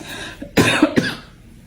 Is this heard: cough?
yes